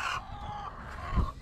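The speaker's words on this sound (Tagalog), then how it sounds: "Papasilip ko muna sa inyo yung mga manok dito." Chickens cluck in short bursts close by in a chicken coop, with a louder low thump near the end amid farmyard background noise.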